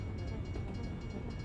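A train rolls past in American Truck Simulator in Colorado, a steady, faint rumble with a continuous wash of wheel and track noise and no clear horn.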